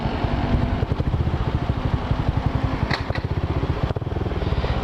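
A small Honda Fan 125 motorcycle engine runs close by, chugging in a fast, regular pulse, with a couple of brief clanks partway through.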